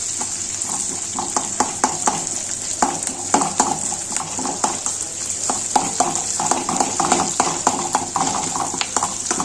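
Onions sautéing in a pan for mutton gravy, with a steady sizzle and a repeated scraping, clattering stir of a spoon against the pan, close and fairly loud, with no voices.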